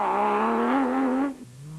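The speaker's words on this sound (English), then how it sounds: "That Ford sounds angry." A Ford race car's engine revs hard at high pitch, loud and close, holding steady before dropping sharply as it backs off near the end.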